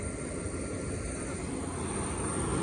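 A Fly Dubai airliner's engines give a steady, dense low roar with a thin high whine above it, unbroken and even throughout from inside the cabin.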